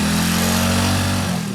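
Close by, a motorcycle engine runs steadily after starting, a loud even drone with a faint tailing off at the end.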